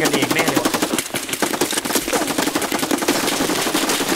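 Dense, continuous automatic gunfire in the Escape from Tarkov video game, loud and rapid with shots tightly packed throughout, with some voices faintly underneath.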